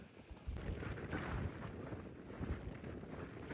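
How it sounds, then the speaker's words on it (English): Strong wind buffets the microphone on an exposed hilltop at Kinder Scout in the Peak District, a loud, rough, continuous rumble with gusts and no speech. "it's quite windy up here"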